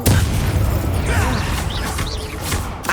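A Confringo blasting spell explodes in Hogwarts Legacy, a loud, continuous rumbling boom with crackling bursts and bright magical whooshes layered over heavy low-end impact, sustained across the whole moment.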